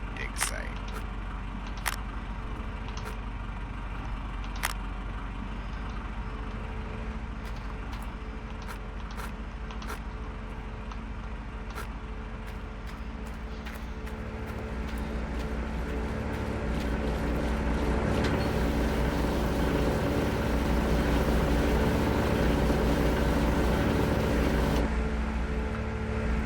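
An excavator in Gold Mining Simulator runs with scattered clicks at first, then its heavy diesel-like engine growl swells and holds loud and close through the second half.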